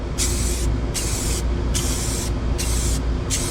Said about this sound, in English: I hit it with some clear, just a small coat of clear